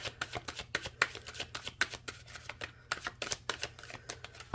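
A tarot card deck being shuffled by hand, a quick run of crisp riffling snaps and papery flicks in an uneven rhythm, close and fairly quiet with no talking.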